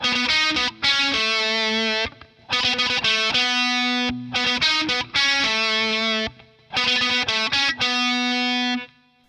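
A distorted electric guitar plays a theme's second riff, repeating ringing notes and quick chugs in four phrases separated by short gaps.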